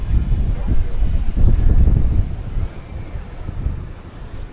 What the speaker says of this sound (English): Oh, I'm glad I put my wind filter on.